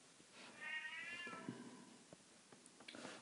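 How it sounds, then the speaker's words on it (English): A pet cat meows once, a drawn-out faint cry from another room in an otherwise quiet indoor space, followed by light thumps and small household noises. "that was my cat you maybe heard"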